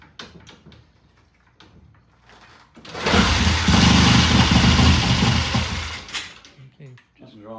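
A Triumph TR6 motorcycle engine after a cold start, a loud rough running burst of about three seconds that then dies away, with quieter clatter and some talk before and after.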